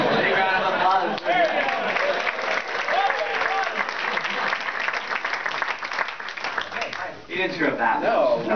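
Sustained applause from an awards ceremony audience at a videogame critics' event, loud and continuous with whoops and crowd noise, briefly dipping before swelling again near the end.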